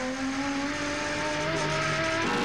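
Nissan Skyline GTS-R Turbo touring race car, number 2, racing at Oran Park, its engine note a steady high whine with tonal harmonics, loud and continuous throughout.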